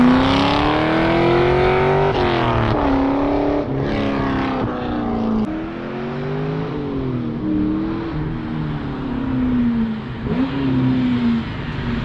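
A Holden VY SS Commodore, a manual with headers, a tune and 400,000 km on it, revs loudly and repeatedly. The engine note climbs and falls in a steady series of throttle blips close to the mic, with no talking.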